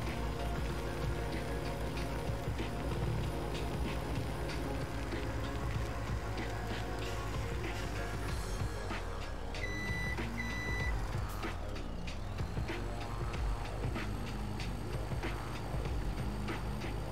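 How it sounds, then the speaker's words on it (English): In a farming game, a dump truck hauls a full trailer, its engine a low, steady labouring rumble, while a repeating reversing beep and light rattles sound over it. "Even the dump truck is struggling a little bit to pull this full trailer."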